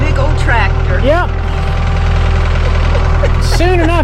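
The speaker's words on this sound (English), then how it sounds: "now you got your littlest one driving that big old tractor" A big farm tractor engine runs with a low, steady diesel rumble and throb, close and loud, while people talk over it.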